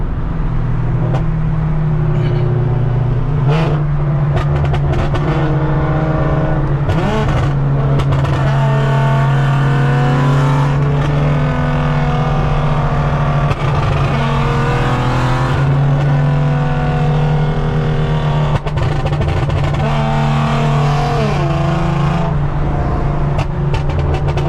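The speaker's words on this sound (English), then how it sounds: "we are about to go ahead and shoot some flames." A tuned Infiniti Q50 revs hard and loud up close, its engine droning and repeatedly climbing in pitch, with sharp crackles and pops from the exhaust scattered through the sustained roar.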